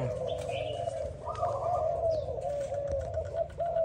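A Malaysian spotted dove from a prized singing stock coos steadily and close, a sustained rolling call running through the whole stretch with a few faint chirps from other birds behind it.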